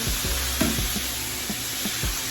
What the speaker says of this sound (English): So now what I'm getting ready to do is add my butter in here.